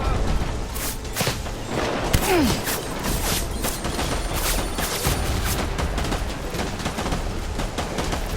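Gunfire in the video game Death Stranding comes as a rapid fusillade of sharp shots in close bursts, with mechanical clatter between them.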